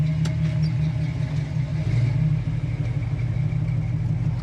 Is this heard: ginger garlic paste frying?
no